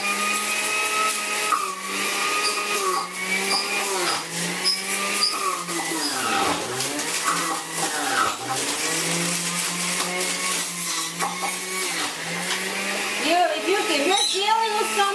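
A store-bought juicer runs on celery and ginger, a steady loud motor whine with a fluctuating pitch and grinding texture throughout, close by, with no talk.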